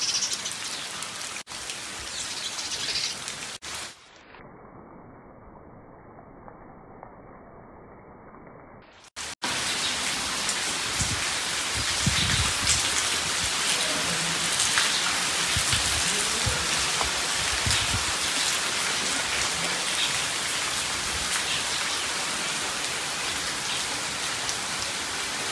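Heavy rain falls steadily in a village, a dense, continuous hiss of drops on surfaces that briefly dips quieter partway through, then returns loud and unbroken to the end.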